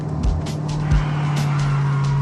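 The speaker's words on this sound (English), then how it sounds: "In their fight for friction, the brakes win and the rear tires burn." A car's rear tires burn and squeal with the brakes locked while the gas pedal is pressed, a steady engine drone and tire roar with a couple of brief thumps.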